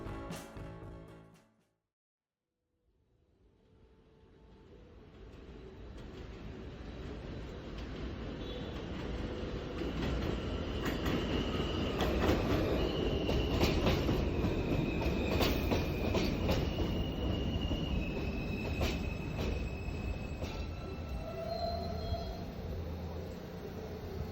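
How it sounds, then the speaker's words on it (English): A Manhattan-bound J local subway train in Brooklyn rumbles along the rails, building from a brief quiet into a steady roar with metallic squeals and clatter, loud and close throughout. "This is a Manhattan-bound J local train."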